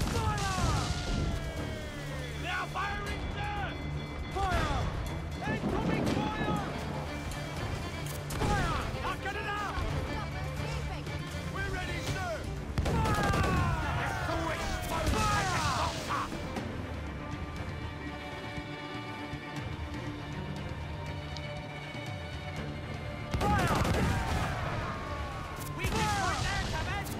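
Ship cannon fire in Assassin's Creed IV Black Flag, heard as repeated heavy booming blasts at irregular intervals, with shouting voices and battle noise throughout.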